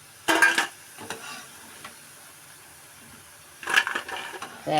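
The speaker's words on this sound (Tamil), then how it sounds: "சவுண்டு கலகலன்னு கேட்குது பார்த்தீங்களா நல்லா பொறிஞ்சிச்சு நல்லா ஃப்ரை ஆயிடுச்சு" Cauliflower pakoda fries in hot oil in a home kitchen, the crackle rising in two loud bursts with faint stirring clinks between, no talk.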